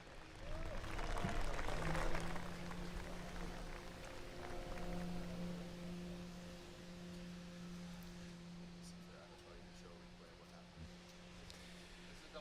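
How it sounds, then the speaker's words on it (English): At a Formula DRIFT event in Atlanta, a crowd applauds faintly in the distance, a soft wash of clapping that fades gradually, with steady tonal hums and engine-like drones running underneath. "another round of applause, if you will, for Kelsey Rawlings and Jace Havoc"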